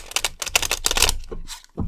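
Tarot cards riffled and shuffled by hand in a series of quick, crisp, papery flutters and snaps, close and fairly loud, with no one talking.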